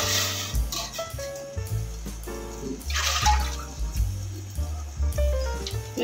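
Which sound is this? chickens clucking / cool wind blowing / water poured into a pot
water poured into a pot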